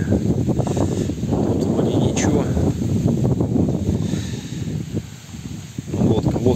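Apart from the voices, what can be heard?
wind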